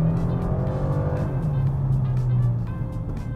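A KIA accelerating hard in sport mode, its engine a loud sustained drone rising in pitch with a faint tire squeal, heard from inside the car with no talk.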